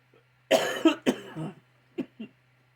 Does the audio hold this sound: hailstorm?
no